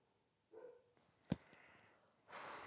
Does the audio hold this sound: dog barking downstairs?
yes